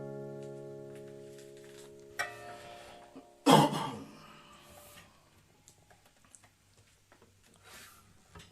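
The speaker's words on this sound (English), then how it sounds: "That was an allergy cough" A single sharp allergy cough bursts out indoors after a soft sung note fades, followed by quiet rustling and small clicks.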